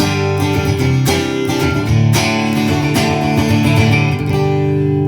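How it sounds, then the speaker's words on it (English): Strummed acoustic guitar chords in a J-45 style ring out steadily and close, full-bodied and warm, with no voices. "Now we got some acoustic sounds. These are some of my favorite. This is like a J45."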